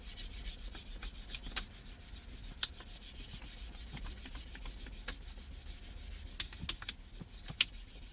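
Fine-grit pad, around 1000 grit, rubbed by hand over a black leather BMW steering wheel, a steady close scratchy scrubbing with soft repeated strokes and a few sharper scrapes near the end, no talking.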